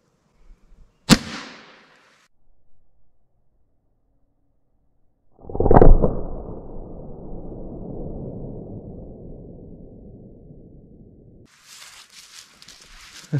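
.22 Long Rifle firing a 40 grain bullet: a single sharp crack near the start, then later a louder impact-like burst that fades into a long rumbling decay before a faint rustling noise at the end.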